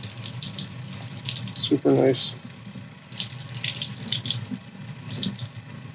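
Warm water runs from a tap as support material is rinsed off an ABS resin 3D print, a continuous splashing flow with clattering handling in the middle and a brief spoken comment over it.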